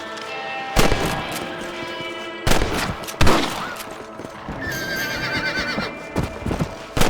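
Gunshots ring out in the western video game Red Dead Redemption while shooting rabbits at the crops: several sharp, loud cracks punctuate the scene among horse whinnies and hoof clip-clops in a busy outdoor soundscape.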